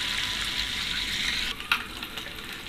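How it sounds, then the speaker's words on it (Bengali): Seven eggs fry lightly in hot oil in a pan, a continuous soft sizzle with a few brief crackles and spatters toward the end, heard close and alone. "ডিম 7টাকে আমি হালকা করে ভেজে নিব। আমি ডিম 7টা এখানে প্যানে দিয়ে দিচ্ছি।"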